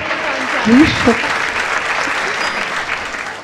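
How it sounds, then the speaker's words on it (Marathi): An audience claps at a Gurupornima music program, a short burst of dense applause that swells and then tails off, with a few voices mixed in underneath. "टाळ्या होऊन जाऊ देत."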